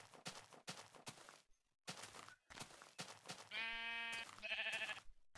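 Sheep in a video game bleat in short nasal cries near the end, following a run of quick thumping footstep-like hits, all fairly close and without talk.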